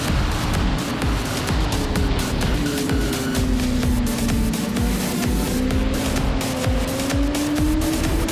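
A racing motorcycle on a track screams at high revs with a continuous loud engine drone and gliding pitch, holding near and steady throughout as it speeds past; no speech.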